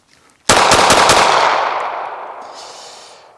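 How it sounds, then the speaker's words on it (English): A Smith & Wesson Performance Center Bodyguard 2.0 pistol, ported carry comp, fires a rapid string of several loud, sharp shots at an outdoor range, the blasts merging into a long decaying echo with no talking. "we'll put some rounds downrange to see if we could really kind of tell the difference between the two."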